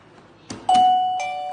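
A wireless, battery-free doorbell receiver plays a clear ding-dong chime: a short knock-like onset, then a bright sustained tone ringing out and slowly fading, with no talking.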